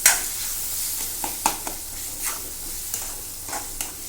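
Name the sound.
spices frying and being stirred in a pan for fish curry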